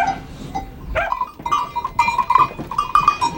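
Goats with black or red coats and lyre-shaped horns bleating, several overlapping nasal calls at close range, some short and some drawn out, with faint outdoor background noise.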